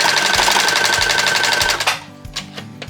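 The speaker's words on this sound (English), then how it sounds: "Then we're going to go over to our machine and we're going to do a straight stitch right along the top to connect the two pieces." Sewing machine running a straight stitch to join two fabric pieces for a small bow tie, a loud rapid mechanical clatter that stops after about two seconds, followed by a few faint clicks and handling sounds.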